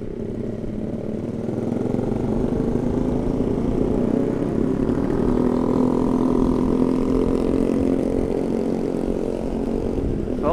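A Yamaha Vixion motorcycle fitted with a helicopter-style exhaust drones steadily while riding, a continuous low throbbing engine tone heard up close with no talk over it.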